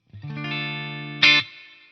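A single sustained chord on a Fender USA Timber Series Stratocaster, bridge pickup, clean channel, rings out bright with slight reverb from a Motions 11, followed by a sharper accent before it fades.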